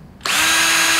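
A Ryobi One+ 18V cordless drill spins up at speed setting two, starting abruptly after a brief quiet moment into a loud, steady high-pitched whir.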